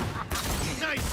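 A gunshot in the video game Cyberpunk, a brief sharp burst within a short, loud stretch of busy game sound.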